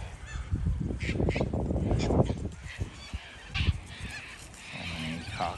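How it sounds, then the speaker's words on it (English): Several cockatoos give harsh, raucous squawking calls in short repeated bursts, fairly close and loud, with occasional quieter calls between them. "So many cockatoos as well."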